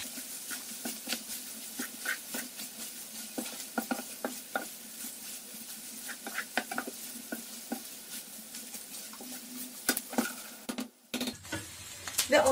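A spoon scrapes and stirs beef liver frying in a pan with cumin, red pepper and thyme, a soft steady sizzle under irregular tapping strokes that ends with a brief clatter.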